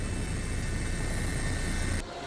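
A helicopter flying over a flood-stricken area in Nagan Raya, Aceh: a continuous, dense rotor and engine drone with a faint steady whine that cuts off abruptly near the end.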